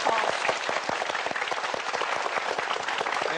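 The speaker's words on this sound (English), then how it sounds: "Yes, please give Adam a applause." An audience at a Talk Vietnam session with Adam Khoo breaks into sustained, dense applause after a demonstration, clapping steadily and loudly throughout with a faint crowd murmur mixed in.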